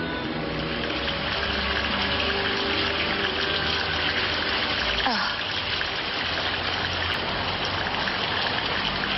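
Rain pours down in a steady, dense hiss that stays constant throughout, with no voices over it.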